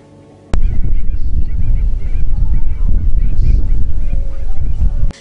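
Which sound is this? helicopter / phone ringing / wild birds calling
wild birds calling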